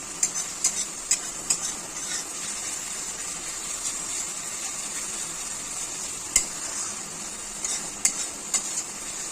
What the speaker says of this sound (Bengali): মশলাটা দেখে বুঝতেই পারছেন সুন্দর করে তেল ছাড়ছে আস্তে আস্তে। এর মানে কি মশলা থেকে মশলাটা কষানো সুন্দরভাবে হচ্ছে।